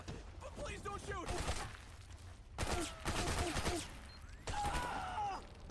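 Bursts of rapid gunfire in Metal Gear Solid 4 on PS5 Pro, in several volleys, separated by quieter stretches with faint groans and effects.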